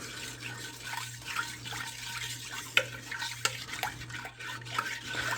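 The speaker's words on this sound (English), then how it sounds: "let's stir that up" Beef and broccoli pieces with minced garlic stirred in a crock pot: wet, squelchy spoon scrapes and irregular clicks over a low steady hum, close by and without speech.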